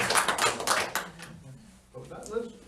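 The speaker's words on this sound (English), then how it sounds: "Liz, you got your first applause" Applause for a speaker at a lecture-style talk: a burst of clapping from an audience for about a second, thinning out, then a speaker's voice carries on.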